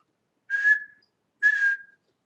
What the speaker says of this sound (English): or I whistled it